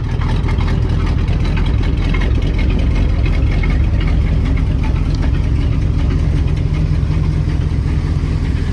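A red 1974 C65 truck with a 366 engine idles steadily, a loud, continuous low rumble with a faint knocking texture and no voices.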